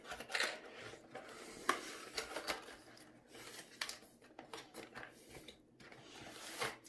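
Scissors cut open the packaging of an HP M100S gaming mouse, giving close snips, crinkly plastic rustles and scattered handling clicks at uneven intervals, fairly quiet.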